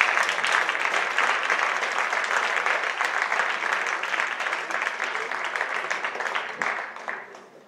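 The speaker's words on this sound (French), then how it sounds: "alors on peut les applaudir très fort" An audience at a French school sports awards ceremony applauds its champions, a dense, even burst of many hands clapping that holds steady for several seconds and then tapers off toward the end.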